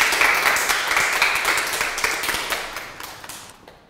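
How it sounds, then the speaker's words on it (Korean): Audience clapping to welcome a speaker onto the stage at a personal finance lecture, a steady burst of many hands that gradually fades toward the end. "큰 박수로 모셔보죠."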